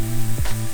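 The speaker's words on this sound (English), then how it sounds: "Listen to that sizzling." Onion sizzles and crackles loudly in a hot frying pan, a brief close-up burst of frying with a quick scrape or stir in the middle.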